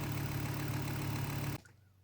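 A car engine runs at a steady idle during a cooling system flush, a close, even hum with a low throb that stops abruptly about three quarters of the way through, leaving near silence.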